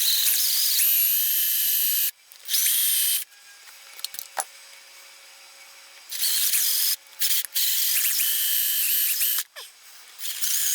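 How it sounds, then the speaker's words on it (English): An electric drill bores out corroded screws on a Polaris 400 engine, whining in several loud, high-pitched bursts separated by quiet pauses. "we'll have to drill those 2 screws out too"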